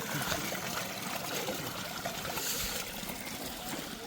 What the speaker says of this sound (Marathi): डोंगरातनं पाणी पाजरून पाजरून येते त्याला पाईप लावून मस्तपैकी सोय केलेली आहे